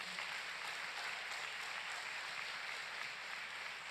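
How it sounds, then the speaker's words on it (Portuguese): A church congregation applauds, a steady, dense wash of clapping hands sustained evenly throughout, fairly distant and quiet with no voices over it. "Diga amém e dê um forte aplauso a Ele em nome de Jesus"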